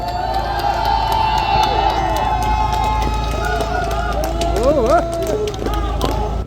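A crowd at a Korean election campaign rally cheers and whoops to welcome a speaker, loud excited shouting and scattered clapping over amplified music tones, with voices throughout.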